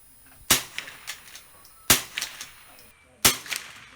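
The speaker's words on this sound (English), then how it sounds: "I think it's a Savage Model 29 pump action, so I'm going to film him shooting" Three sharp, loud shots fired one at a time from a Savage Model 29 pump-action .22 rifle at an outdoor range, each followed by faint echoes and the clack of the action.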